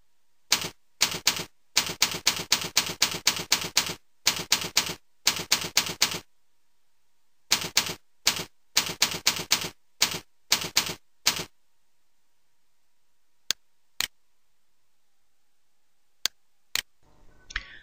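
Crisp, rapid keystrokes on a keyboard come in several quick bursts as a script title is entered in Microsoft Word 2007, with a gap partway through and a few lone clicks near the end, all in a quiet room.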